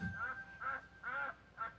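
Four short nasal duck quacks in a steady rhythm from a children's story read-along, fairly faint, with a thin steady tone running underneath.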